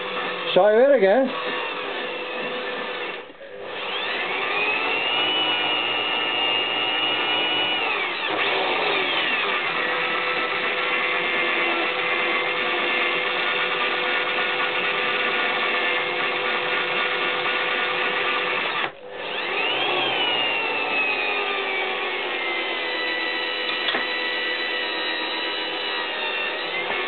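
A drill turns a valve to lap it into a 650 cylinder head, giving a sustained close whine that dips briefly a couple of times before resuming. Someone speaks faintly underneath.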